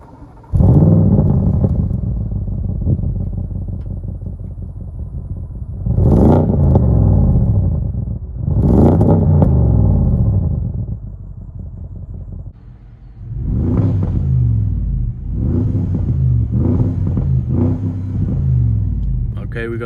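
A warm 2015 Audi S7 with a 450 hp engine revs in neutral, giving three loud rising-and-falling blips followed by a run of quicker, shorter revs against a steady idle rumble.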